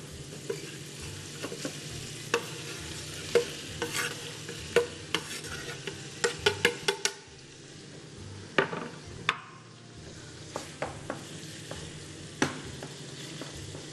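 A filling fries and gets stirred in a hot clay pan, with a steady close sizzle and scraping stir strokes. Sharp utensil knocks come in irregular bursts, with no voices.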